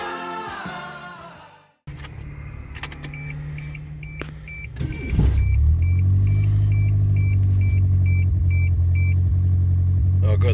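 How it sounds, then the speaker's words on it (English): A 1989 Geo Spectrum engine cranks and catches after a short chime and key jingle, then idles with a loud, steady low rumble. "There it is, Geo runs."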